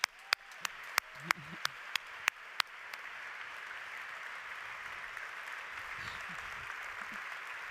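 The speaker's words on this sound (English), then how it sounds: "nous allons laisser partir the 100 Voices of Gospel. On les applaudit." At an awards ceremony, a few sharp, distinct claps open the moment before dissolving into a softer, continuous round of audience applause for a gospel choir, with faint voices underneath.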